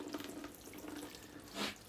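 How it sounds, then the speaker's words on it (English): A watering can fitted with a rose sprinkles a steady, soft patter of water onto seed pots of beans, a gentle continuous shower heard close and quiet. "I'm going to carefully just water these pots so that they're soaked"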